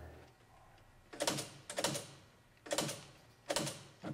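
Typewriter keys struck by a slow, non-touch typist in four short clusters of clacks with pauses between, close and fairly quiet against a faint background.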